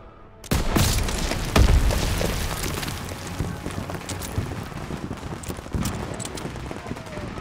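A grenade detonates with a loud, close boom in a Call of Duty WW2 battle, followed by a long rumbling tail of debris and distant gunfire and battle noise.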